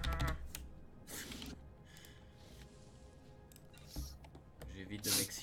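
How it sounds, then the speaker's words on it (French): A computer keyboard is hammered with rapid bursts of keystrokes during a Star Wars: The Old Republic combat sequence, clattering in clusters between quieter stretches, with faint talk in the background. "J'entends un clavier en train de se faire spammer"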